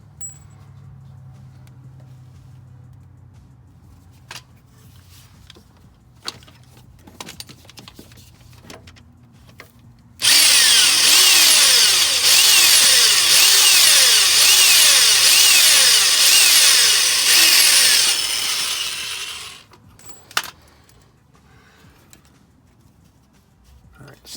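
Power drill bores loudly and steadily for about ten seconds, enlarging the hole in a broken exhaust manifold bolt on a Chevy Silverado, with quieter tool clicks and handling noises before and after.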